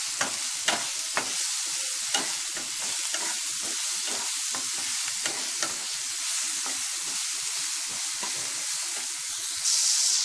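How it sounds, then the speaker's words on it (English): A spatula scrapes and stirs potato, egg and rice in a hot frying pan, with repeated scraping strokes over a constant sizzle and no talking. "we'll mix everything together."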